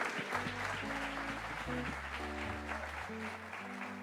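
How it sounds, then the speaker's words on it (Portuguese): A church congregation applauds during a conference service, steady clapping over sustained low organ or keyboard chords. "Aplauda o Senhor pela vida dele."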